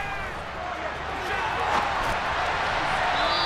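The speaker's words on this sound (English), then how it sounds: "You can already start to hear this crowd." Stadium crowd roar in a Madden NFL 23 football game swells steadily louder during a goal-line play, a broad wash of noise under light background activity.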